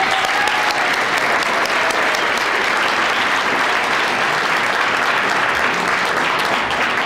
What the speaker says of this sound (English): they were still clapping for Roger